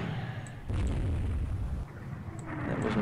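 A heavy explosion from a naval battle video game set during a night engagement between cruisers and battleships, a deep sustained rumbling boom lasting over a second amid ongoing low battle noise and faint distant pops.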